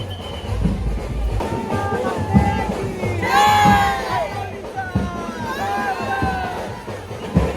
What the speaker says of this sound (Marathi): पाहू शकता हायवेवरून चालली असं वाटत नाही आणि भरपूर जल्लोष आहे